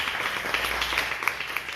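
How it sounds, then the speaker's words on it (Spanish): A Spanish-language church congregation claps during a Sunday worship service, with steady moderate applause under a reverberant hall sound. "Démosle un aplauso al Señor, hermanos."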